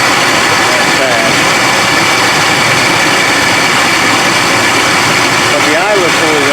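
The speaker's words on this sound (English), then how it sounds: "I'm wondering if that might be a tensioner pulley down below." A Ford 5.4L Triton V8 in an Expedition idles loudly and steadily up close, its dense mechanical roar carrying a faint whine that suits a worn tensioner pulley, with a voice audible over it.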